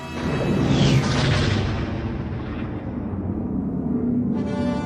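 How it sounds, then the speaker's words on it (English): A Death Star superlaser blast from Star Wars: Return of the Jedi, a loud booming explosion with a rushing, whooshing roar that peaks early and then holds as a sustained rumbling wash for several seconds. "That blast came from the Death Star."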